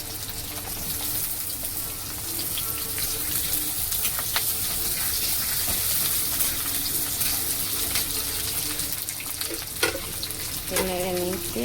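Onion and potato pieces frying in a pan, with a continuous close sizzle and occasional stirring clinks and scrapes, and a short tonal clatter near the end; no voices.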